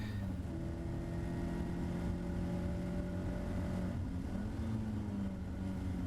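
A Caterham sports car circles Donington Park circuit, its engine droning steadily and loud from inside the cockpit, with pitch rising and falling as the driver shifts through the gears.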